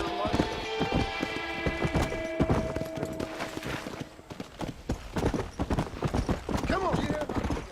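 Horse hooves clatter in a steady galloping rhythm through a Red Dead Redemption game scene, loud and continuous alongside music and other game noise, with people talking over it.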